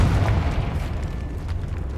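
A Confringo blasting spell detonating in Hogwarts Legacy, heard as a sustained deep rumbling boom that fills the whole moment without fading, loud and close.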